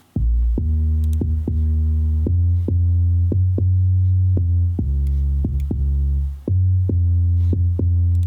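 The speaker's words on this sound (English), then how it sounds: "This is what the bass sounds like, and this is from FM Sub." A deep, loud FM synth sub bass from FL Studio pulses in repeated notes, each with a sharp attack and a droning low tone, steady and rhythmic.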